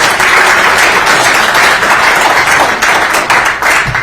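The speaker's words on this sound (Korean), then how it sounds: "감사의 박수" Loud, close applause of thanks fills a hall at a civic association's founding ceremony, as many hands clap densely and steadily throughout.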